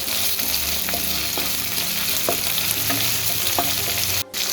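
Onion browned with ginger garlic paste fries in a pan, a loud, dense, continuous sizzle with faint stirring scrapes and a momentary drop near the end.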